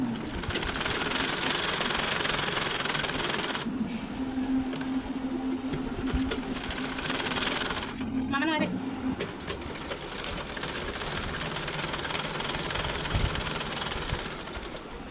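A sewing machine stitches a cross belt with a steady, busy mechanical whir that pauses briefly and then restarts, while a voice talks over it.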